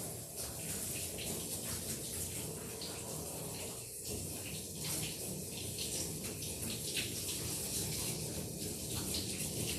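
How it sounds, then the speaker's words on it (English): Running water from a bath sprayer gushes steadily while rinsing soap off the lips of a Bernese–Labrador mixed-breed dog, a loud continuous splashing flow with a brief dip midway. "And then I'm going to rinse his lips off too."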